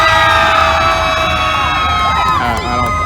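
A crowd at the Queen Mary Dark Harbor Halloween haunt screams and cheers in a sustained, loud roar of overlapping shrieks and whoops that holds steady for about three seconds.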